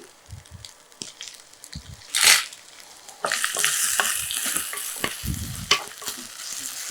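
Chicken with dried red chillies and tomato sautéing on low flame for chicken noolkol pirattal, a soft sizzle that swells louder midway, with stirring scrapes and clinks of a spoon against the pan.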